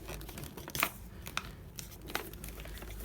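A cardboard-stiffened paper gift bag is folded down by hand, giving quiet crinkles and three sharp creasing crackles spaced about half a second apart over faint room hiss.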